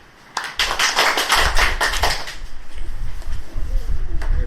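Lecture audience clapping at the end of a talk, a brief burst of sharp claps near the microphone that quickly thins into scattered, softer claps over a low background.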